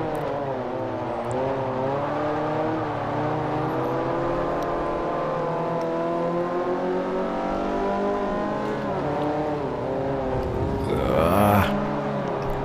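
A Toyota Yaris S race car engine in Forza Motorsport 4 drones steadily and loud, its pitch climbing and dropping through gear changes, ending in a brief sharp surge near the end, with no talk.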